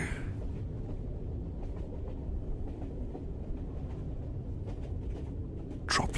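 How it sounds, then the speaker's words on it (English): A moving train rattles along in a snowy winter setting: a continuous low rumbling clatter with faint rhythmic clicks, fairly steady and close, and a brief brighter burst at the very end. "let yourself focus on the rattling of the train and cool breezes of wind passing by."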